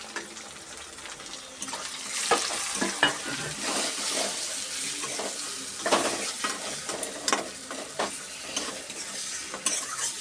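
Tomato, ginger-garlic, turmeric, chilli powders, Kashmiri chilli, salt, cumin and garam masala being sautéed together in a pan: a steady close sizzle with repeated scraping stir strokes and occasional clinks of a spoon, no voices.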